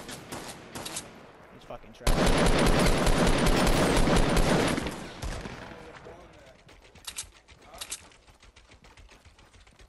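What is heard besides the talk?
gunfire in the video game Fortnite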